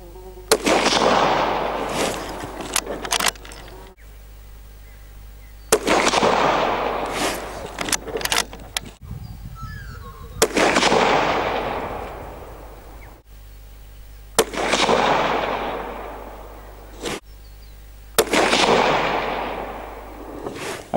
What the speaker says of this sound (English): we'll fire five rounds, see how we go with a five-shot group